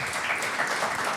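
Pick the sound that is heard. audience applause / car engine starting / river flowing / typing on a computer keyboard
audience applause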